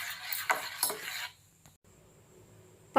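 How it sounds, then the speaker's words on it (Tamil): A spoon stirs coconut chutney in a bowl with quick scraping clinks and knocks for about a second. After that there is a near-silent pause and then one last clink. "இப்போது இதை நல்லா மிக்ஸ் பண்ணிடலாம்."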